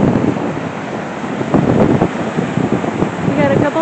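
Strong wind at Kootenai Falls buffets the microphone with a loud, steady, rumbling roar that surges around the middle of the clip.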